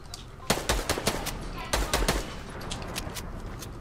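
Rapid bursts of gunfire in a Fortnite Battle Royale match, several sharp cracks clustered in two volleys with quieter shots trailing off, heard over game ambience.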